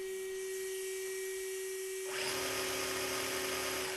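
A high, whining hum from a Cheetah sensored brushless motor in a Yokomo RC car holds steady, then jumps into a louder, broad buzzing roar about halfway through as it revs up to full throttle.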